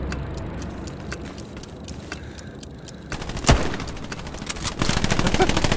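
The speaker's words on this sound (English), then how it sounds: "I just shot him again." Gunfire in the WWII shooter game Hell Let Loose: scattered distant shots, then one loud close rifle crack, followed by a dense burst of rapid fire near the end.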